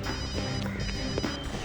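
A mobile phone ringing inside a car, a brief repeating electronic ring tone that sounds close, set among dense background music and ambient noise.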